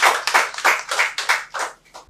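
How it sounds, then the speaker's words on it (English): A short burst of applause from a group, with hands clapping in uneven waves that swell and fade over a couple of seconds. "I think that deserves a round of applause."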